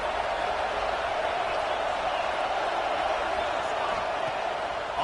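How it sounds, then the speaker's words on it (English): A large stadium crowd at a USC vs Washington college football game keeps up a steady, dense roar of cheering that washes evenly through the whole stretch and is heard from within the stands. "This crowd knows when to bring it."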